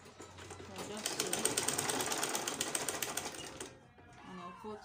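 A sewing machine stitches a fold of fabric for a peplum in a rapid, steady run of needle strokes lasting several seconds, then stops, leaving faint room noise and brief soft handling sounds.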